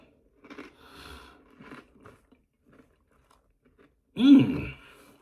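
A single loud crunchy bite into Harvest Snaps sour cream and onion crunchy loops, a baked snack, sounds close up after a stretch of quiet, then fades into soft chewing.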